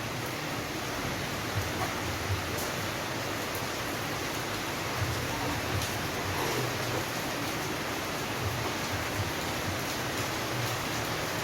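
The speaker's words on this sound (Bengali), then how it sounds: "এই যে আবার বৃষ্টিও শুরু হয়ে গেছে" Steady rain falls outdoors with a constant, even hiss at moderate distance, unbroken by voices or other sounds.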